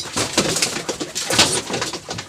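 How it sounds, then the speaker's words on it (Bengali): Domestic pigeons on a pigeon farm coo in repeated soft, throaty calls at close range, with several birds overlapping and a steady rustle of activity behind them. "আজকে দেশি কবুতর দেখাবো এই বাইরে খালি শুধু ফার্মে দেশি কবুতর পায়রা কবুতর"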